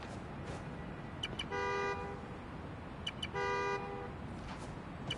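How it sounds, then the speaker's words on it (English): A car horn in a PS4 video game honks in two long, loud blasts separated by a pause, with short key-fob chirps before each over a steady background hum. "I love a good horn."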